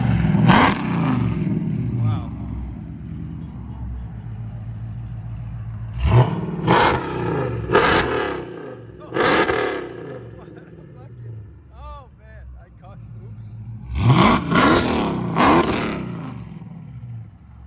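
A supercharged 6.4-liter HEMI V8 in a Jeep Grand Cherokee SRT with straight-pipe exhaust revs hard in three loud bursts, snarling and crackling between bursts, with people talking over the low idle in the gaps.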